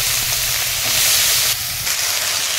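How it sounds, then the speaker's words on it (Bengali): Yardlong beans and potatoes added to hot oil with onion and chili in a wok, giving a loud, sustained sizzling hiss that surges briefly and then settles. "কড়াইতে তেল আর পেঁয়াজ লঙ্কা দিয়ে দিয়েছি ভাজার জন্য। বরবটি আর আলু এবার দিয়ে দিই।"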